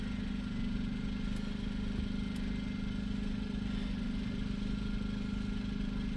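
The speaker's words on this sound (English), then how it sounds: "You should hear the generator get louder." A portable generator runs a steady, loud droning hum while powering an electric vehicle charger under load, constant throughout with no voices over it.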